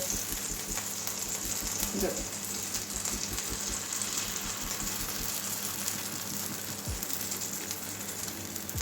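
Paratha batter for a quick aloo paratha poured into a hot pan and spread, giving a steady soft sizzle with faint frying crackle throughout, close and fairly quiet, no talk.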